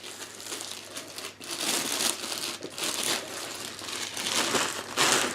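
A plastic bag crinkles and rustles in close, irregular bursts as a spotting scope is unpacked from its case. Quiet, with no talking.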